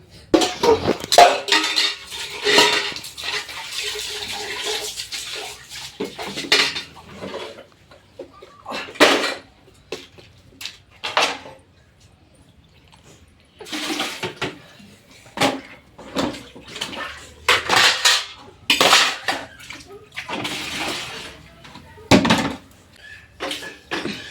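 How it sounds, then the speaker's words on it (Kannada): Household dishes are scrubbed and washed by hand, with repeated clinks and clatters of pots, pans and cutlery in irregular close bursts separated by brief quieter pauses. "ಪಾತ್ರೆ ಬೆಳಗ್ಬಿಟ್ರೆ ಕೆಲಸ ಮುಗೀತು"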